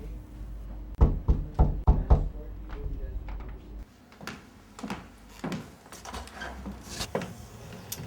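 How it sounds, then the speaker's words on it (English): Knocking on a door: a quick series of four or five firm knocks, then scattered thumps and bumps under people talking. "Ask me why I knock on my own door"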